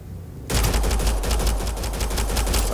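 Sustained automatic weapon fire in the Mass Effect Andromeda video game, a loud continuous rapid-fire rattle that starts abruptly after a quiet moment and keeps going without a break.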